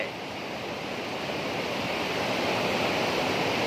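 Broad, continuous rushing water of a Mekong River waterfall at Si Phan Don roars steadily and loudly, swelling slightly toward the end with no voices.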